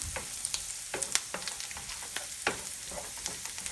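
Ginger and garlic fry in a pan for a green peas egg curry, a constant close sizzle with frequent light taps and scrapes from stirring.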